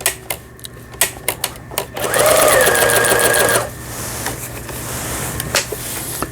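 A Pfaff 6120 sewing machine gives several loud mechanical clicks, then a close, continuous burst of whirring stitching lasting over a second, followed by a quieter running hum with occasional taps.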